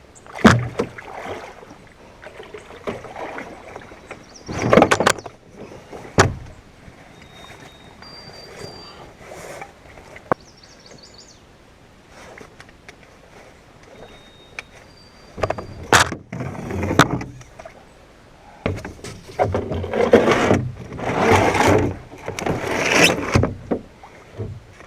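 A portage yoke being positioned and clamped onto a solo canoe in the Boundary Waters: scattered knocks, scrapes and hollow bumps of gear against the hull at close range, separated by quiet pauses.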